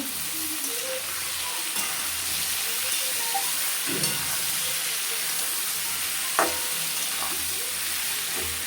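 Vegetables sautéing in a pan with homemade coriander and cumin powder, a steady broad frying hiss throughout with occasional faint scrapes of a stirring spoon, close and continuous.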